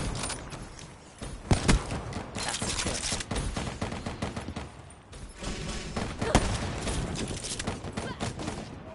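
Gunfire in a Treyarch Call of Duty match: dense, continuous rattling bursts of automatic weapons with scattered louder shots, mixed and compressed like game audio, with players' voices occasionally underneath.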